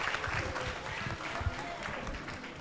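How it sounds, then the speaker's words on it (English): An audience at a hackathon event applauds, a dense spread of clapping that carries steadily for a few seconds with voices mixed in. "Please give them another round of applause."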